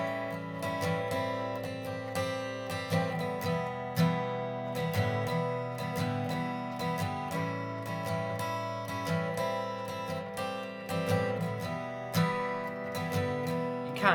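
Acoustic guitar strummed through the chord pattern of a song, steady rhythmic strokes with ringing chords, close and moderately loud, no talking.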